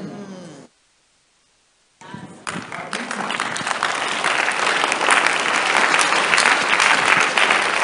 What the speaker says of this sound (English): I'm waiting for those who are not clapping to join you, then I'll continue.